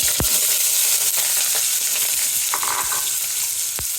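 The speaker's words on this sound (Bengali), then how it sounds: "এখন তেল গরম হয়ে গেছে, তেল দিয়ে দিচ্ছি, সাথে এক বাটি পেঁয়াজ" A bowl of onions frying in hot oil alongside cinnamon and cardamom for a pigeon meat dish, a loud continuous sizzle with sharp clinks of a utensil against the pan, no talking.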